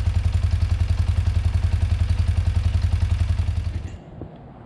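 A BMW R100GS Paris Dakar motorcycle engine idles with a steady, even low thump and mechanical clatter, close and loud, then cuts off abruptly near the end, leaving quiet.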